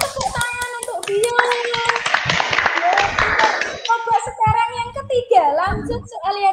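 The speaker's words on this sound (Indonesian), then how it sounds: "Pinter, tepuk tangan untuk dia" Children in a classroom clap briefly for a student, a short burst of hand claps mixed with a teacher's and kids' voices talking over it.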